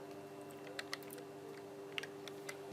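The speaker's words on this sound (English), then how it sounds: "The first thing you want to do here is you're going to type" HTML code is typed on a computer keyboard, a few faint, scattered key clicks in an irregular rhythm over a steady low electrical hum.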